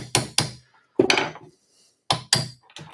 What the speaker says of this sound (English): So I've got a bolt. And a hammer.